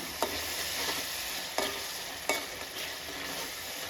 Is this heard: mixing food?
yes